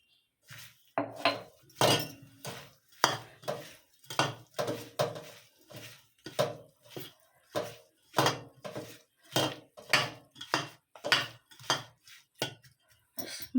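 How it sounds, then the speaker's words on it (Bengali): Fish is rubbed and mixed by hand with salt and turmeric in a bowl. The squelching, clicking strokes repeat in a steady rhythm, close and fairly soft, with no talking. "নুন আর হলুদ দিয়ে মাছটাকে মাখিয়ে নেব"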